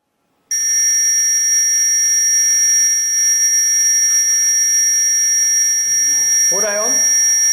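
An electronic fire alarm circuit buzzer sounds steadily and loudly, a piercing continuous tone that starts abruptly and holds, with someone briefly talking under it near the end.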